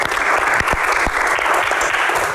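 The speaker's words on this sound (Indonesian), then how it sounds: "Tepuk tangan semangatnya untuk box kali ini." An audience at a Q&A event claps in steady, full applause, a dense close wash of many hands with a few sharper individual claps standing out, no talk over it.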